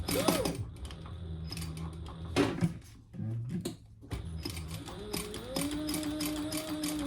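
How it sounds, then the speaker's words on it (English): A sewing machine chain stitches two fabric pieces together for a phone crossbody bag, its needle chattering in close, uneven bursts with brief pauses and mechanical creaks between runs. "I'm just chain stitching these two."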